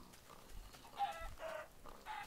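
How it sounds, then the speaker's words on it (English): Chickens in the Minecraft video game cluck in short, fairly quiet bursts, several soft calls spaced irregularly over a faint steady background hiss, with no talking. "there's chickens right here"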